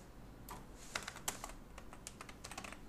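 Java code being typed on a computer keyboard: a quiet, irregular run of close keystrokes with a few sharper taps, heard on its own with no voices.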